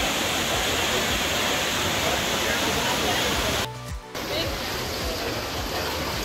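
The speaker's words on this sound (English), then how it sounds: "you're gonna find the taps of water, which is running non-stop continuously" Water runs nonstop from an outdoor public tap in Italy, a steady, loud rushing hiss that is broken briefly by a short dip partway through.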